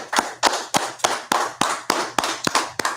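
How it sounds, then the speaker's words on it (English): A crowd at a scripture breakdown class claps in sharp, evenly spaced bursts, about ten loud hand-clap hits in quick rhythmic succession. "Let's clap it up."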